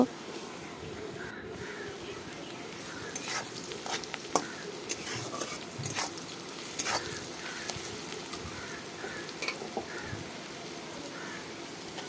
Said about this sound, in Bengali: এখন মশলাগুলোকে ঢেলে দিলাম মশলাগুলোকে দিয়ে তারপর ভালো করে কষিয়ে নেব